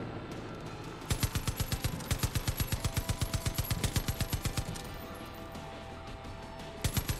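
Machine gun in the video game Far Cry 5 fires long rapid automatic bursts: a steady rattle of sharp shots for several seconds, a brief pause, then a few more rounds near the end, loud and close with no talking.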